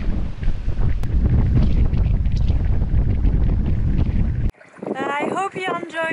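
A sailing boat moves through wind and water off a village in Sumbawa. Loud wind buffets the microphone over rushing water for several seconds, then cuts to a quieter scene where people talk.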